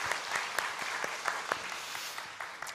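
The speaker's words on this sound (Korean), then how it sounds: "박수 한번 합시다" A church congregation claps for a newlywed couple during Sunday worship, a soft, steady patter of many hands with sharper individual claps popping out, fairly distant and continuous for a few seconds.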